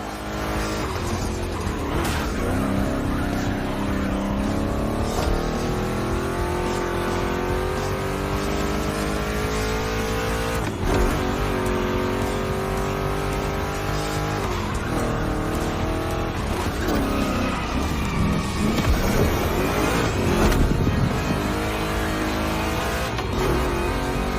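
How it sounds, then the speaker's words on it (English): Two big-block Chevrolet cars race in The Crew Motorfest video game, with loud, continuous engine roar rising and falling through gear changes, plus bursts of tire squeal and skidding, and no talking. "Two Chevys, two big blocks, but only one winner."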